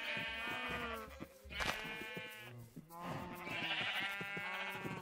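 Sheep in the Minecraft video game bleat repeatedly, three or four long wavering cries in a row, loud and close with no talk over them.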